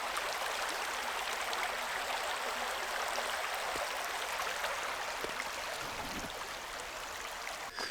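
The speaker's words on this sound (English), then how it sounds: "This is gonna be a pretty big creek crossing here." Winter creek in Shawnee State Forest, Ohio, flowing steadily with a broad, continuous rush of water at a crossing point, close and fairly loud, with no voices.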